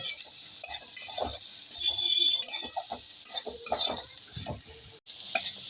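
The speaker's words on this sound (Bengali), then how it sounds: "এবার আমি এই সব উপকরণটা খুব ভালোভাবে নেড়ে চেড়ে নেব।" A spoon stirs spices with Kashmiri chilli powder in a hot pan, giving a steady sizzle with repeated scraping and clinking strokes, close and clear, with no talking.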